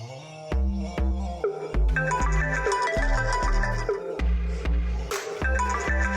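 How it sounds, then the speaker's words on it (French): A mobile phone rings in a French-dubbed TV drama series, a bright melodic ringtone with a steady repeating beat playing loud and clear throughout, no voices over it. "Votre portable sonne."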